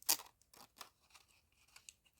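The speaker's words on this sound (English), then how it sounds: "Do I want to cut it with fancy scissors?" Decorative-edge craft scissors snip through paper in a few crisp, separate cuts, the first one loudest, followed by quieter snips and small rustles, close up with no talking.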